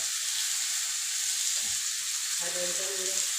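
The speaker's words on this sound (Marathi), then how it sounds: "तेल टाकायचं आहे तव्यावर. लोखंडी तवा ठेवला आहे आपण" Steady hiss of thalipeeth frying in oil on an iron griddle, with a soft scrape and a brief faint voice-like tone near the end.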